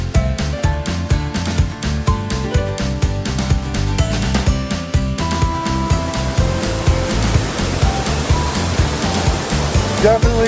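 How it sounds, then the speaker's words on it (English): A waterfall reached after an uphill hike makes a loud, constant rushing roar that fills the whole stretch, with a strong rhythmic pulsing throughout. "Very cool waterfall."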